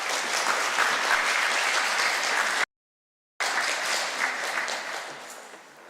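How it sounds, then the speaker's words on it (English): Audience at a youth science conference applauding a speaker, a steady wash of clapping from a moderately distant crowd, broken by a brief silent gap before resuming and fading. "please give a lovely round of applause for Dr. Barker."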